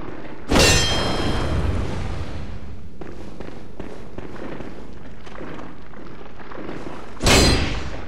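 Two loud, bright metallic clangs ring out a few seconds apart in Bloodborne, from the bell-ringing woman, each decaying into a dense rumbling game soundscape.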